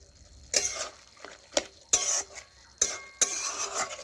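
A spoon stirs vegetable curry in a pan, giving a handful of distinct scraping, clattering strokes against the metal with brief pauses between them, close and fairly clear.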